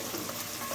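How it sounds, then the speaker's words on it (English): Seasoning frying in a pan gives a steady, dense sizzle and crackle throughout, close and continuous with no talking. "Here my seasoning is frying."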